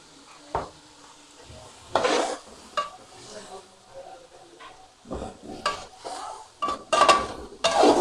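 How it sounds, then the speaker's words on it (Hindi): Onions fried in a pan with green chillies nearby, a spoon scraping and clinking against the metal in irregular bursts over a faint sizzle, close and moderately loud, no speech. "प्याज को फ्राई करके फिर अगला प्रोसीजर देखते हैं। हाफ फ्राई हो गए।"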